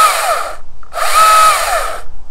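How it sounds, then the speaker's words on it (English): STIHL MSA 220 C battery chainsaw cutting wood, two loud whining bursts of chain noise separated by a short pause. "Here we go, first cut."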